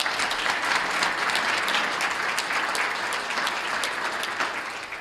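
An audience applauds at an awards ceremony of a chamber of commerce, steady and dense crowd clapping that holds at an even level throughout with no voices standing out.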